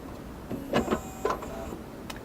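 A Modela milling machine for cutting PCBs starts back up with a few brief whirring motor moves and clicks, close by and fairly quiet.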